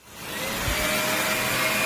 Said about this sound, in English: the motor will ramp up and then it'll cut itself off